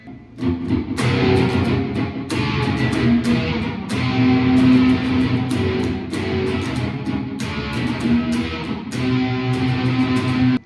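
Distorted electric guitar strumming power chords in a steady, driving rhythm, with short pauses between chord groups.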